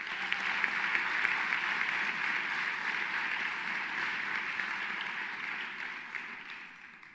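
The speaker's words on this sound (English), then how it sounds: "Let's give all of them a round of applause." A concert hall audience at a national voice competition breaks into sustained, dense applause that holds steady and then slowly fades toward the end.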